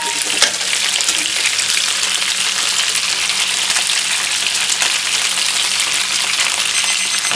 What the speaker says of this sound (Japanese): 本当はオーブンでやれば楽なんでしょうけど、今日はあえてフライパンで焼いてます。